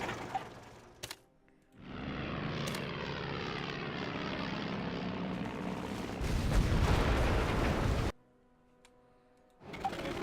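Bomber aircraft engines drone loudly in an Axis and Allies RTS battle, a sustained propeller roar that starts abruptly, swells, then cuts off, with faint distant booms before and after.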